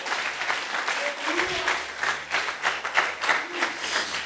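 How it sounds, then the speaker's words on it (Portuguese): A church congregation applauds in sustained, rhythmic clapping at moderate distance, with voices talking over it. "Os irmãos estão aplaudindo"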